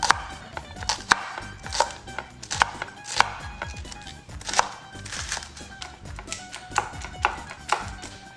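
A knife chops green onions roughly and quickly on a board, with a steady flurry of close, sharp cuts continuing throughout.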